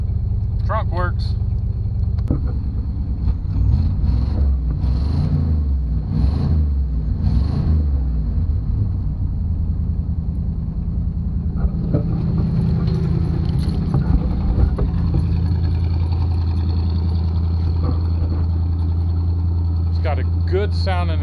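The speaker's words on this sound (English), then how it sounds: "Good sound and exhaust. It's not too loud, but it's a good sound and exhaust." A 1984 two-door Chevy Caprice engine running with its exhaust rumbling, a steady low throb close by that continues under someone talking.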